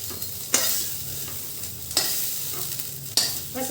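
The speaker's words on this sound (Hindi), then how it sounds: "यहाँ पर मेरा सोयाबीन जो है ना, उसे तेल में अच्छे से मैं कर ली हूँ फ्राई" Soybeans fry in hot oil with a constant close crackling sizzle. Three sharp scraping stirs break through it at intervals. No voices are heard.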